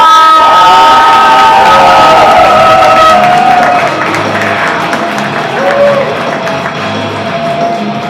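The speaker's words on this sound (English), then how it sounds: "So a big round of applause" A Saturday-night comedy club crowd in Dallas applauds and cheers for an incoming comedian, a loud, dense wash of clapping and shouts that tapers slightly while a sustained tone runs through the first half.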